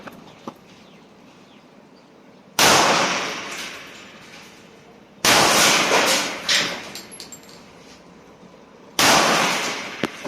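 Three loud, sharp gunshots from a Rock Island 1911 A1 .45 pistol with a 5-inch barrel, each shot trailing off in a long echo, spaced a few seconds apart at close range outdoors.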